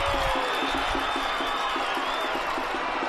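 Stadium crowd at a Phoenix Rising FC versus New Mexico United soccer match roaring and cheering for a goal that is disallowed, a loud, sustained wall of voices with whistles and horn tones above it.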